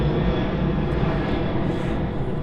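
An airliner climbs steeply away after departure from East Midlands Airport, its engines a steady, broad, fairly loud roar that holds constant with no talk.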